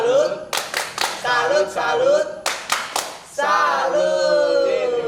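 At an online Sunday school session, a group claps a patterned 'tepuk salut' rhythm, sharp bursts of hand claps alternating with children and adults chanting along loudly in sing-song voices.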